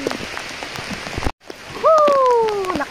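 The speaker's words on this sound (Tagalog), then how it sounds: "Maulan guys eh. Sobrang ulan." Heavy rain pours on a fishing trip, a steady hiss of drops drumming on surfaces, briefly cut off, then returning with a rising tonal whine over it.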